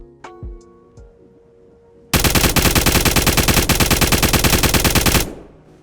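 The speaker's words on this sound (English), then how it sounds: "a lot of people like to do this burst fire thing, especially at the longer ranges" Rapid, loud automatic gunfire from the video game Zero Hour: Operation Black Dawn, a dense stream of shots lasting about three seconds and ending in a short decaying tail, preceded by a few quieter game sounds.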